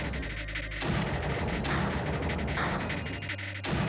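Mortars firing in the strategy game Creeper World, a dense stretch of deep, booming artillery-style blasts that roll continuously with sharp onsets near the start and end.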